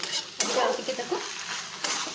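Masala potato gravy being stirred in a hot pan, a scraping swish over a steady sizzle, close and fairly loud with a couple of sharper clinks.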